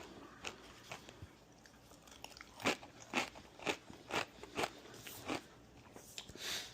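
Someone eats a crunchy, tangy jalapeño-flavored snack, with a series of close, crisp bites and crunching chews coming in quick bursts, faint and alone.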